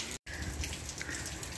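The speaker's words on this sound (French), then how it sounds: "Et là je peux vous dire qu'il pleut bien, il fait 11 degrés." Steady rain falling at a rest area in Utah on a cool day, a continuous close hiss of drops with a brief cut near the start and no one speaking.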